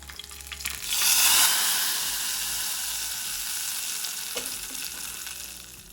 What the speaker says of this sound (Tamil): கொஞ்சமாக எண்ணெய் சேர்த்து தாளித்து ஊற்றிடலாம்.